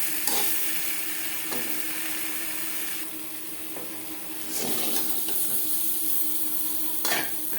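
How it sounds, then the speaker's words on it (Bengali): Pre-boiled potatoes fry in oil in a pan with a steady, close sizzle. Stirring scrapes and utensil knocks come at intervals, and no one speaks. "আলু ভাজা হয়ে গেছে"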